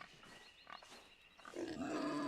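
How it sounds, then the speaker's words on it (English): Pig grunting in the online fantasy game Albion Online, a short, faint snort followed by a louder, drawn-out grunt. "That's a pig."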